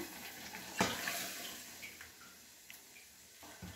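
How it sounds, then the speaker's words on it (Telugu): Water pours into a cooker for stuffed brinjal curry in a quiet, steady trickle with a brief clatter near the start; faint and close, no talking. "ఫ్లేవర్ని బట్టి వాటర్ అనేది కొంచెం యాడ్ చేసుకుంటాము"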